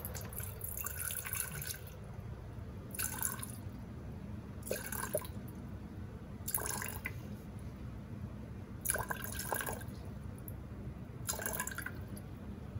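Water poured into a clean jar while measuring for a bread sourdough starter, heard as several short bursts of trickling and splashing separated by quiet pauses, close and fairly soft.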